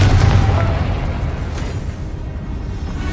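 A Confringo spell blows up in Hogwarts Legacy as a heavy, low boom right at the start, then a dull rumble that slowly fades with no speech.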